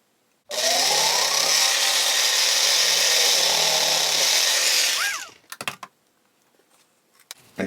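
A loud power drill whines steadily for several seconds driving a pin into timber while building ship frames, then cuts off, followed by a few short bursts and clatters.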